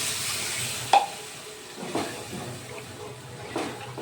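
Water goes into a pan of frying masala for egg kofta curry, bringing a soft hissing sizzle at close range with a few stirring scrapes and splashes scattered through.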